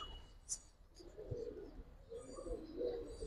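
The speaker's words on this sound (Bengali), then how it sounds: "এই যে ভাই কবুতরটা দেখেন" A Giribaz high-flyer pigeon gives soft, low coos in two brief phrases, faint against a quiet background.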